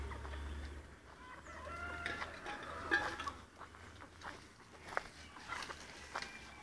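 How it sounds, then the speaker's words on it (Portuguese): Hens and a white bantam cluck in a dry yard, soft repeated clucks and scattered calls at moderate distance, with light footsteps and a faint voice now and then. "Um garnizezinho branquinho"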